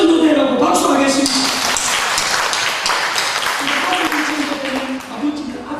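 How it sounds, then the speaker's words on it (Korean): A church congregation at a Sunday service claps together in a sustained burst, with a voice speaking over the applause throughout. "이건희 임채녀 집사님 아들 전도되라고 박수하겠습니다"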